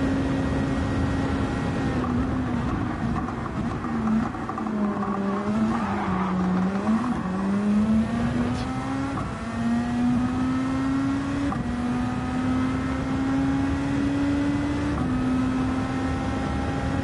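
GTR race car engine in Gran Turismo 7 at Circuit de la Sarthe in wet conditions, a steady loud drone whose pitch rises and dips with gear changes and throttle, running continuously throughout.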